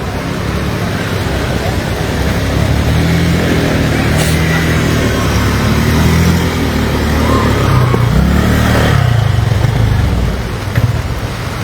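Motorcycles rev and push along a badly cracked national road in Sukabumi, engines rising and falling through continuous traffic noise, loud and close, with a voice speaking over them.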